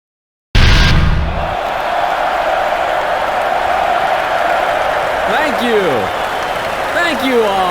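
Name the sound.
applause in video game cutscene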